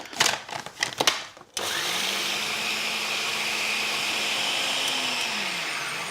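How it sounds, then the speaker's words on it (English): A food processor roars steadily as it blitzes oats into a coarse mix, loud and close, starting abruptly after a few brief clattering knocks and holding an even whine to the end. "So I'm going to use the food processor for this, which is easy."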